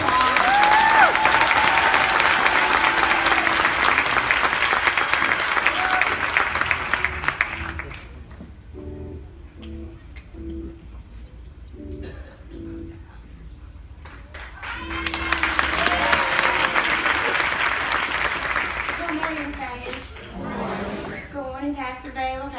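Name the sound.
audience applause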